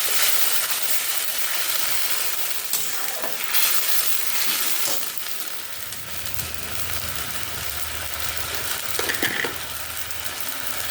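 A paste of onion, ginger, garlic, tomato and chilli sizzles loudly in a hot pan, a dense close hiss with intermittent stirring scrapes and a brief splash as water is added.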